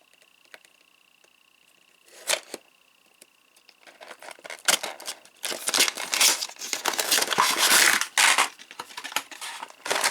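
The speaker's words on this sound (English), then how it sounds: "Let's get Darth Sidious open and take a look" Cardboard box and plastic packaging for a Star Wars Black Series Darth Sidious action figure being opened by hand, with crinkling, tearing and rustling that grows busier and louder toward the end.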